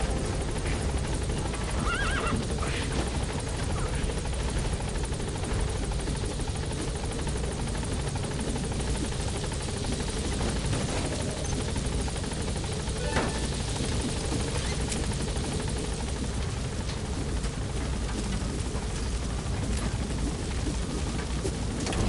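The Pequod helicopter from the video game Metal Gear Solid V: Ground Zeroes gives off a steady, loud rotor drone that runs unbroken through the whole stretch, with no talking over it.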